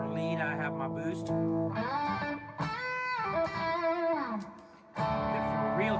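Boosted electric guitar lead tone, sustained notes and bends played close and loud with a brief drop in level near the end, a touch of effects coloring the sustain.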